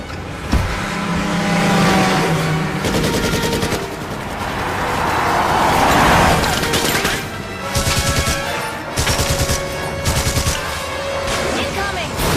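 A mounted gun in Syphon Filter Dark Mirror fires rapid, rattling bursts over a roaring vehicle engine, with loud in-game voices speaking throughout.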